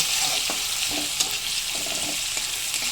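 Chillies, bay leaf and onion sizzle in hot oil for tempering, a continuous bright crackle with occasional spatula stirs, close and alone.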